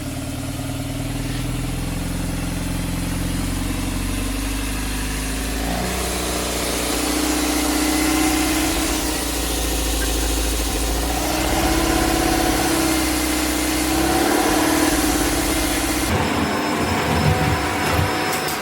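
A Lotus Excel engine that had sat in a garage for 17 years runs at a loud, steady idle with a continuous throbbing drone and slight shifts in pitch, and nobody talks.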